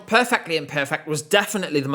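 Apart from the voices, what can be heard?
No everyday noises stand out.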